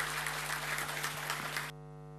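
A crowd applauds a speaker at a 2014 Kutlu Doğum religious celebration in the Netherlands, giving a dense, even wash of clapping that cuts off abruptly and leaves a low electrical hum.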